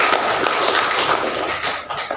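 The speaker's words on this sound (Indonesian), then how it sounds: "Berikan aplaus untuk kelompok 2" A classroom of students applauds a group that has just presented, a dense, steady burst of many hands clapping close by, continuous for about two seconds with no talk.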